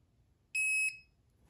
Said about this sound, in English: if you're trying to measure, test for continuity to get it to beep